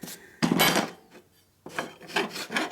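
A file rasps against a welded Harley panhead D-ring, knocking burrs off the metal in two bursts of close, scraping strokes with a short pause between them.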